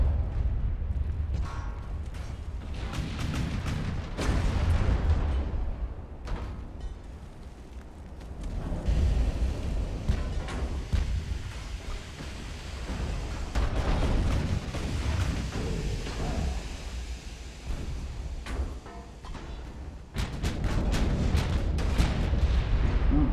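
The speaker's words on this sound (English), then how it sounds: "Three primary turrets fired." Warship primary turrets firing salvos in the naval game Ultimate Admiral: Dreadnoughts, a series of deep booming blasts with rolling rumble between them, loud and heavy, with several sharp volleys near the start, middle and end.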